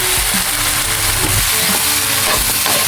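Meat for a Filipino mung bean stew drops into a hot pan and fries with a loud, steady, close sizzle and some stirring noise throughout, with no talking.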